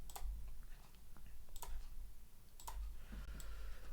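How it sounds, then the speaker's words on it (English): The Control N combination typed on a computer keyboard, a few sharp separate key clicks spread across a quiet room with faint background hum. "So if I go and I press Control N on the keyboard,"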